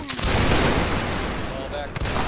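A musket line volley in a Napoleonic-style line battle video game, a dense burst of many near-simultaneous shots cracking out loudly and rolling into a sustained rumble of fire, with a second sharp report near the end.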